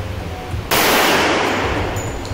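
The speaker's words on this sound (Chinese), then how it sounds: "每一次击发的枪声都爆大声了" Pistol shot fired at an outdoor shooting range in Pattaya, Thailand: a single loud, sharp blast about two-thirds of a second in, then a long bright ringing decay that fills the rest of the clip.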